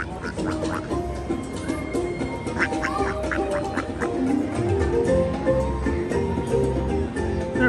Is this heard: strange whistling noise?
no